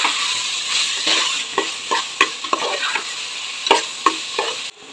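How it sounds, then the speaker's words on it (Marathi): Vegetable fried rice with packet fried rice masala being stirred in a hot pan over a high flame, a steady sizzle with repeated spatula scrapes and taps against the metal, close and fairly loud. "गॅस मोठी करून तो मिक्स करून घेऊ"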